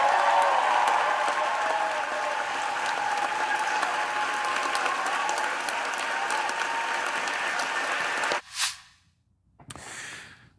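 Applause rings out in the Senate chamber for Cory Booker's filibuster, sustained dense clapping for about eight seconds before cutting off abruptly, followed by brief scattered noise.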